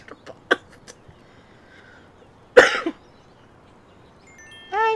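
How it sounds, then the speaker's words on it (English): Two short, sharp coughs, one early and a louder one midway, in an otherwise quiet room with a faint tonal sound near the end. "You guys heard me cough."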